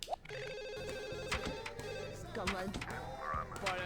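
A telephone rings in The Sims on PS2 as a repeating electronic trill over steady game music, with a person talking loosely alongside it throughout.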